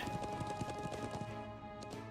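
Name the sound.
horse hooves galloping in video game Trails of Cold Steel 2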